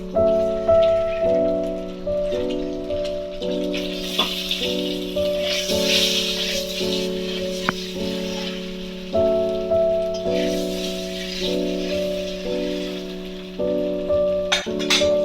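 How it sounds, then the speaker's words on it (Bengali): Eggs sizzle in hot oil in a pan for a Bengali egg, potato and poppy-seed dish, a soft continuous crackle and hiss running beneath steady background music. "এবার আমি আস্তে করে ডিমগুলো ছেড়ে দেব"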